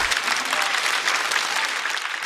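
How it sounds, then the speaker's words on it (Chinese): A stand-up comedy audience claps for a comedian in a dense, steady burst of applause that holds at an even level throughout. "再次掌声送给陈曦"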